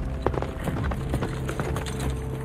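Horse hooves gallop in a fast, uneven drumming rhythm as an audio drama effect, close and full, over a low rumbling background with no talk.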